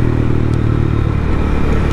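A Suzuki DRZ400sm single-cylinder supermoto is ridden along back roads, its engine a loud, steady, dense rumble under heavy wind buffeting, close and continuous for two seconds with no speech.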